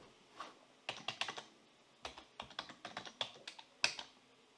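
Typing on a computer keyboard while logging into database software: quick clusters of crisp, close key clicks in irregular bursts, with brief pauses between, no voices.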